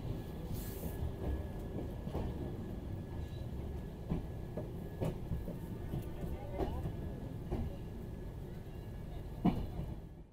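The New Delhi–Howrah Duronto Express runs steadily on the line. A continuous rumble and rattle of the train carriage carries faint periodic wheel clicks and occasional squeaks, heard close from inside.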